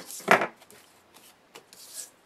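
A paper card is trimmed along its top edge, a short close scrape with a brief crisp burst at the start and quieter rubbing strokes after it.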